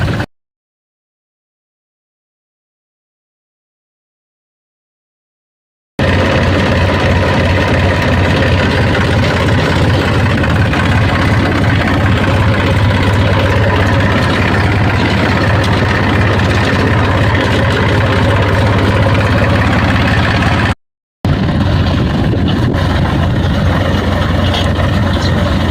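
A tractor engine runs steadily at a low, even idle on a farm, loud and close. It goes on alone without talk after a silent opening, with one brief dropout near the end.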